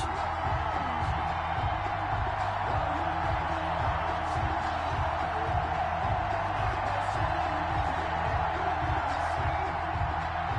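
Stadium crowd in an NFL football video game on PS4, Carolina Panthers against Atlanta Falcons before kickoff, as a steady, dense roar that fills the whole stretch at an even level, with a low rhythmic thump pulsing underneath.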